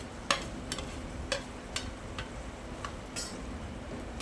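Dried shrimp (sukat) sautéing with cooked potatoes in a pan for a spicy curry, giving a soft, steady sizzle broken by a few sharp scraping strokes of a spoon, close by and fairly quiet, with no voices.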